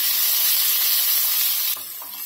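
Cashews, crushed chilli and ginger hit a hot pan and set off a loud, steady, close sizzle that hisses continuously, then drops noticeably in volume near the end; no talking.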